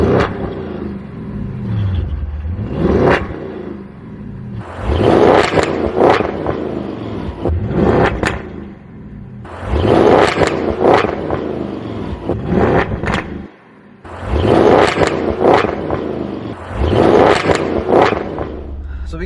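Audi S8 D4 engine revving in repeated bursts, each surge rising and falling with loud throaty rumble, separated by brief quieter lulls, up close and alone without talk.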